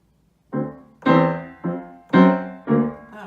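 Piano duet playing Shoo-Fly, with a few loud sustained chords struck one after another in a steady rhythm, each ringing out and fading before the next, close and clear with no talking.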